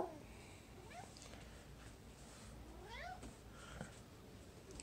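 A cat meows several times in short, rising and falling cries, fairly close against a low background hum, with no one speaking.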